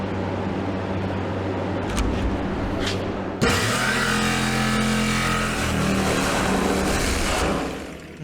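Electric jigsaw cutting through the metal wall of a large burn barrel, a loud harsh buzzing rasp that kicks in abruptly after a few seconds of quieter handling noise and runs steadily before trailing off.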